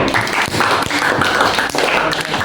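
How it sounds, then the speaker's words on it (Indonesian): Classroom applause after a student presentation, a dense burst of many hands clapping close and loud, continuous for a couple of seconds with a faint voice underneath. "Oke, berikan aplaus lebih dahulu"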